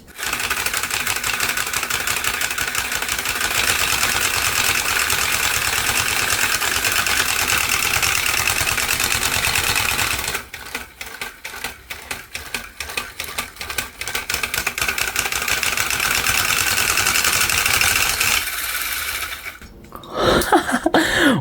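A motor drives a 3D-printed spring hammer in a loud, fast, continuous mechanical clatter. The hammering breaks into sharper, uneven rattling partway through, then briefly stops and restarts at the end, with no voices.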